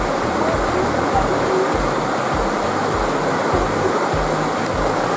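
Sungai Napal, a river at a tourist spot in Jambi, rushes in a steady broadband wash of flowing water that stays loud and constant, with a faint low rhythmic rumble underneath.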